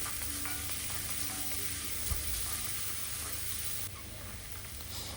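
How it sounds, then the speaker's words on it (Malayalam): Garlic sautéing in hot oil for a garlic chicken roast, giving a quiet, continuous close-up sizzle with occasional light stirring clicks, easing slightly toward the end. "എണ്ണ ചൂടാകുമ്പം നമ്മളുടെ ഗാർലിക് അതിലേക്ക് ഇടും എന്നിട്ട് അത് നന്നായിട്ട് മൂപ്പിച്ചെടുക്കുക"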